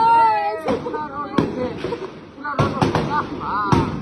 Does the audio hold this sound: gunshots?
yes